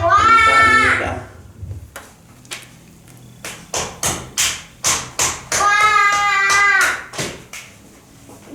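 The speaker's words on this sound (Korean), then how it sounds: "하나님께 영광의 박수 올려드립니다." Rhythmic bursts of hand clapping from a Korean church congregation, about six sharp claps in a steady beat between stretches of cheering voices, loud and close.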